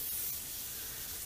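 An airbrush sprays a steady hiss of paint over a rainbow trout pattern crankbait, a fairly quiet, continuous spray with no talking.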